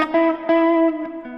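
Clean electric guitar with a slight crunch through an Axe FX 3 amp modeler, a few plucked notes ringing out and sustaining with a little distortion, played alone and fairly close.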